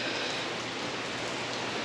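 Steady rain falls outdoors during a portal gear install on a RZR side-by-side, a constant dense hiss of drops on surfaces with no talk over it.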